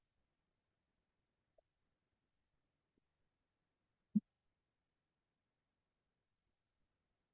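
A single short sneeze from someone in a classroom, brief and fairly quiet, standing alone in near silence with only a couple of tiny clicks before it.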